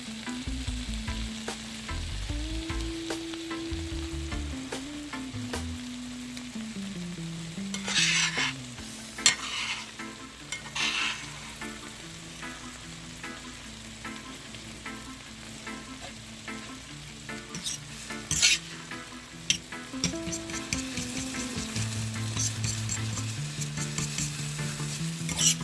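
Chicken fried rice being stirred in a hot pan, with a steady loud sizzle and repeated scraping of the utensil against the pan throughout, and no talking.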